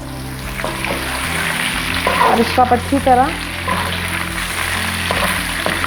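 Mixed vegetables with bell pepper, boiled potatoes and carrots stir-fry in a pan, sizzling steadily with bursts of stirring and scraping in the middle, while someone talks over the cooking.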